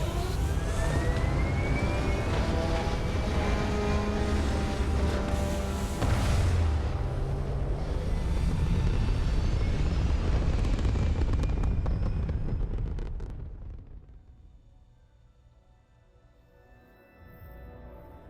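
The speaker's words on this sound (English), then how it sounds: "We have liftoff." Spaceship lifting off in the Starfield video game: a loud, sustained engine roar with rumble and rising tones that holds steady for about twelve seconds, then thins and fades into a low residual hum.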